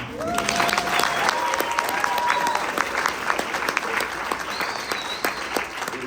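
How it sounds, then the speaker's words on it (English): Wedding guests applaud the bride at her wedding reception, a dense, steady wash of clapping filling the room for several seconds, with whoops, cheers and crowd chatter mixed in. "I know you guys already gave a round of applause for how great she looks, but I think it deserves a second"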